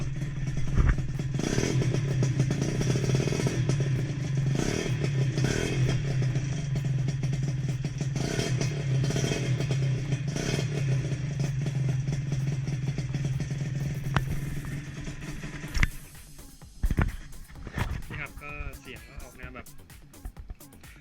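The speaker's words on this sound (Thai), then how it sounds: "เร่งเครื่องให้ฟังนะครับ ว่าเสียงมันจะเป็นไง" A motorcycle engine runs loud and close with a steady rumbling exhaust, then revs and sputters in short bursts near the end.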